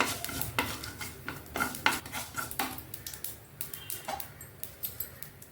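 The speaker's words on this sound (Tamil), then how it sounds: "இப்போ வெந்தயம் கடுகு வறுபட்டாச்சு." Fenugreek and mustard seeds roasting in a dry pan, stirred with a metal spoon that scrapes and clinks in quick, uneven strokes over a faint crackle, close and moderately quiet.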